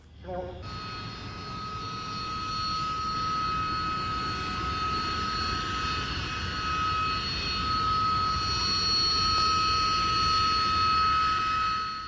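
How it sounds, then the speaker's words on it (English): Harrier GR7 jet at the 1996 Duxford airshow: a continuous loud jet roar with a high piercing whine, sustained and building slightly as the aircraft passes, with a voice talking over it. "The GR7 version of the Harrier represents the zenith of aeronautical design."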